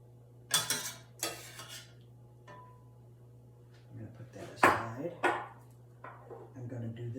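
Warm shrimp and scallop sauce spooned onto a plate, with a few light metal spoon clinks and scrapes against dishware amid quiet kitchen hum.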